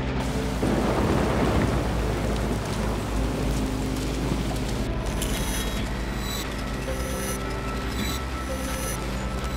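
Heavy rain pours steadily while low thunder rumbles underneath, loud and close, with no voices.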